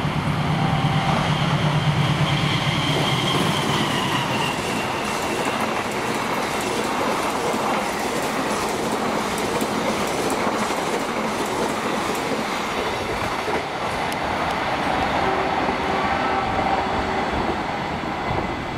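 The Taksaka passenger train rumbles past close by for a long stretch, wheels clattering steadily over the rails with a continuous loud roar.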